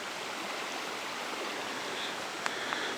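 A small creek flows steadily, a soft continuous wash of running water with no voices, plus a couple of faint brief ticks near the end.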